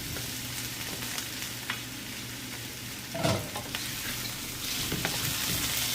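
Chicken wings for adobo sizzle and fry in a pan with a steady, close crackle, broken by a brief louder stir or shift of the pieces midway.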